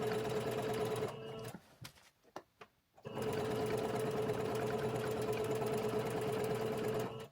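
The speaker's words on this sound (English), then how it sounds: "Now I'm just gonna sew the long side." A sewing machine stitches a Starlink carrying bag in a steady, close, humming run of rapid needle beats, pausing briefly for a couple of seconds before resuming at full pace.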